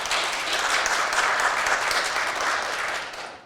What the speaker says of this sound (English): Let's give her a little bit of a round of applause